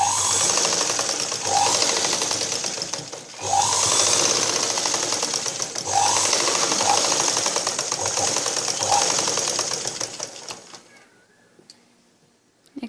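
A sewing machine stitches blouse fabric in steady runs of rapid mechanical clatter, broken by a short pause partway through, then winds down and stops near the end, leaving quiet.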